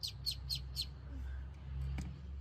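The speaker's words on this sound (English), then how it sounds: "the cheeky chirping from below has led her to get her hands dirty" Small chicks chirping from below inside a narrow tube, a run of four quick high chirps at the start, then a couple of fainter calls over a steady low hum.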